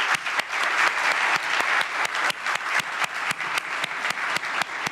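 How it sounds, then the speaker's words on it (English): An audience claps for conference panelists at a Latin American cities conference in Santo Domingo, sustained applause with distinct individual claps throughout, loud and close, without speech. "This is a well-deserved round of applause."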